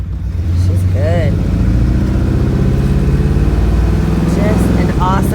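A 1957 Ford Fairlane driving through a corner with a brake check, its engine giving a steady low rumble throughout while someone talks over it.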